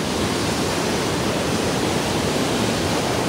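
The Rel Khola river rushing nearby, a dense, even roar of flowing water that holds steady and loud throughout, with no voices over it.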